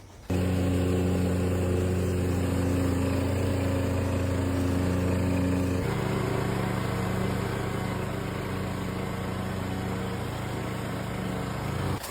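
An AL-KO 521 SP-A Premium petrol lawn mower runs steadily and loud close by through the whole stretch, its engine tone dropping a step partway as it cuts grass along a pebble edge.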